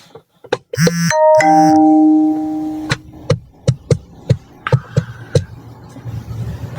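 A doorbell-like chime rings out on a live stream, a two-tone ding-dong with sustained tonal ringing that fades, followed by a string of sharp knocks and taps.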